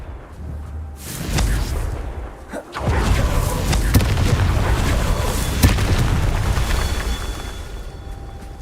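A booming Confringo spell explosion in the Hogwarts Legacy video game, a sharp burst near one second followed by a sustained loud, rumbling blast and crackling debris that continue to the end.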